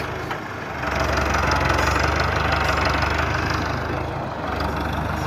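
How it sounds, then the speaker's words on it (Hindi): A Farmtrac 6060 tractor running a 7 ft rotavator churns steadily with a deep, knocking engine drone and a mechanical clatter, loud and close, briefly dipping before carrying on. "यहाँ से किसी और के रूटरवेटर को चला रहे हैं इस समय"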